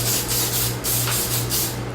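A hair product is sprayed in several short hissing bursts, close and fairly loud, before flat ironing with a ceramic flat iron, with no talking.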